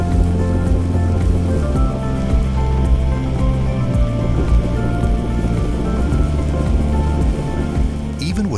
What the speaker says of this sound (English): flare gas flows to all runners in the multi-point ground flare